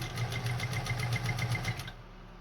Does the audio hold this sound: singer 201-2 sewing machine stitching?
yes